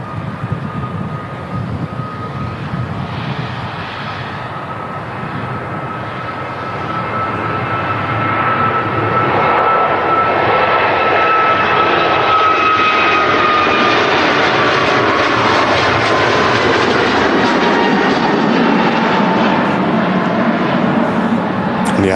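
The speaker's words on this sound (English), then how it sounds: "A330. Yeah, great aircraft and a great airline as well." An Airbus A330 jet airliner at Manchester Airport rumbles with a steady engine whine and faint tonal hum that builds louder in the second half, with some faint talk possible in the background.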